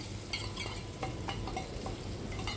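Chopped tomato, onion and ginger-garlic paste for chhole masala sizzle over low heat in a pan, with a spoon stirring through a continuous crackling fry; no voices.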